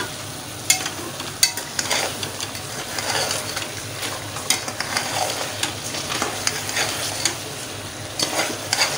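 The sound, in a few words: cauliflower frying in ghee on high flame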